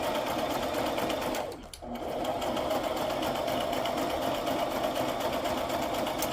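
A sewing machine stitches steadily and continuously, a close, even mechanical whir that pauses only briefly before running on again, with no talking.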